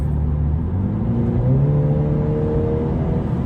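A John Cooper Works (JCW) convertible's deep exhaust rumble rising in pitch as it accelerates, close and loud, with a smooth building drone.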